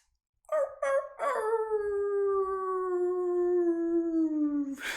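Human voices imitate a big wolf howl during a group team meditation: a couple of short yelps, then one long, sustained, gradually falling howl close and loud for several seconds.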